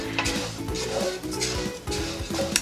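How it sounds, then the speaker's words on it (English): Orzo stirred as it toasts dry in a pot, close scraping of a utensil against the pan bottom in repeated strokes, with light rattling grains and a faint sizzle. "make sure that you're mixing it well and that nothing's getting stuck to the pan"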